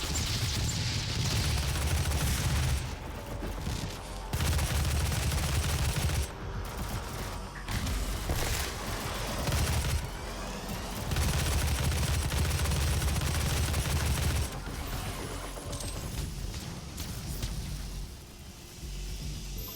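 Micro missile mod on a weapon in DOOM 2016 unloading in sustained rapid bursts, loud dense barrages of explosive fire with brief pauses between volleys.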